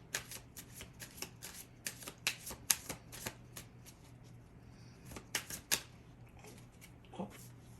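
Tarot deck being shuffled and cards drawn, a series of crisp riffling flutters and sharp card snaps in uneven bursts, close and clear with quiet pauses between.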